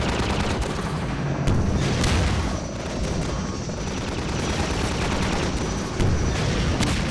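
A rocket launcher fires in the game Half-Life 2: Episode One. Loud booming blasts and crackling gunfire overlap with a droning mechanical hum, and heavy thuds land near the start and end.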